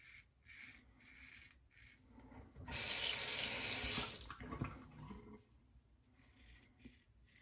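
Running tap water pours over a closed comb safety razor being rinsed in a sink, a faint bathroom hiss that swells to a loud rushing splash for about a second and a half, then fades back to quiet trickles and clinks.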